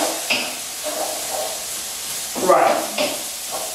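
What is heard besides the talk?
vegetables stir-frying and sizzling in a pan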